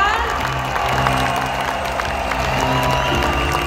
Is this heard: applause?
yes